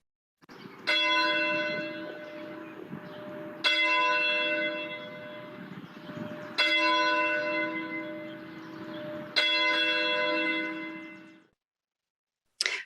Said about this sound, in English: Let's begin worship with the ringing of our church bell.